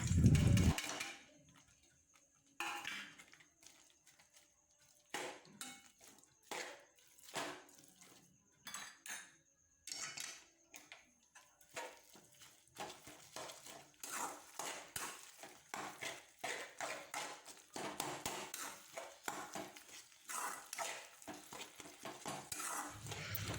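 Spoon stirring and breaking up fried cabbage in a pan, with repeated scraping and clinking strokes against the metal, steady and close, alone without talk.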